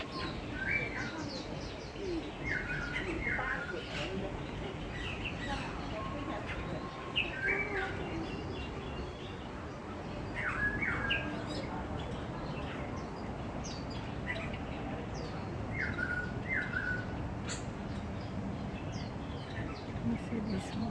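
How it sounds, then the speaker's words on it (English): Birds at a bird tower chirp in scattered short bright calls over a steady outdoor hum, with occasional cooing; a person speaks intermittently in the background. "Oh, there's birds."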